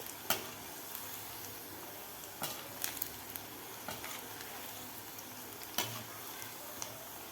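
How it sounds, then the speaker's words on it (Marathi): Moong dal bhaji fritters deep frying in hot oil, a steady crackling sizzle with a few sharper pops and spatters, fairly close and continuous with no talking. "हे सुद्धा आपल्याला गोल्डन कलर होईपर्यंत आपल्याला भजी तळून घ्यायची आहेत"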